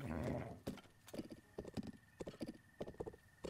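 Horse hooves clip-clopping in the video game Breath of the Wild, a quick, steady trotting rhythm of close, distinct hoof beats after a brief snort or whinny at the start.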